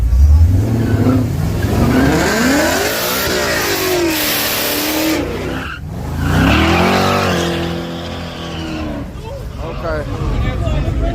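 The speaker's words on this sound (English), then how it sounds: "He done did a half track burnout." A car doing a half track burnout at a street drag strip, engine roaring and revving loudly with tire squeal throughout, while voices talk over it nearby.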